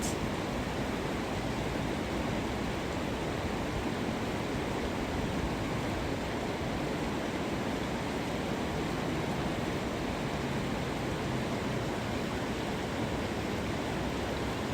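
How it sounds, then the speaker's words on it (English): Rushing river flows steadily in the background outdoors, a constant broadband rush of water with no change across the stretch, moderately soft and without voices. "You can hear the pouring river here in my background."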